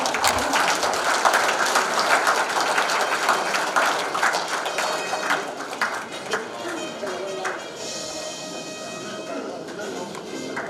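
A hall audience at a general meeting of Incheon retired civil servants claps as the mayor and guests enter, a dense, sustained round of applause that thins out toward the end.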